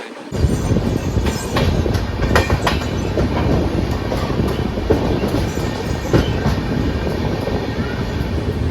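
The Shantiniketan Express, Howrah to Bolpur, slows on its approach to Khana Junction, a steady, close rolling rumble of wheels and carriages with scattered rail clicks throughout.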